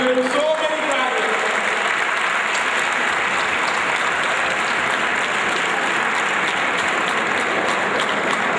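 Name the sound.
audience applause at an award ceremony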